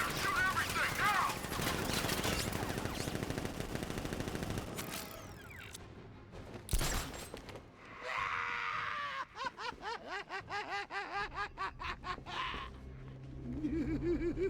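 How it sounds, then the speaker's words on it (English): Gunfire from a militia ambush in Batman: Arkham Knight, with rapid bursts of shots crackling through a busy mix of game voices, screams and effects, loudest in a dense volley toward the end. "Open fire! Shoot everything, now!"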